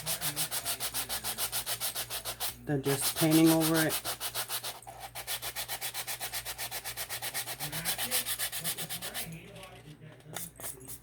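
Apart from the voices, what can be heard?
sanding wood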